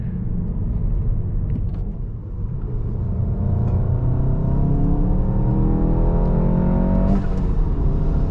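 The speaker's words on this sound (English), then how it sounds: "Second gear pulling strong. Dude, the blow off is crazy." A manual turbocharged hot hatch pulls hard in second gear, its engine note climbing steadily and loudly. Near the end comes a brief, sharp turbo blow-off whoosh.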